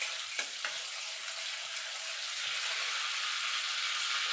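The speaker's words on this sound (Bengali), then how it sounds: "এবার বাটারটা গলা পর্যন্ত অপেক্ষা করব।" Butter melts in a pan for a Bengali-style rajma curry, giving a steady, close hiss of sizzling with a couple of faint clicks early on and no talking.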